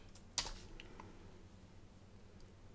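A computer keyboard is typed on quietly, with one sharp, close keystroke click followed by a few fainter, sparse taps in a hushed room.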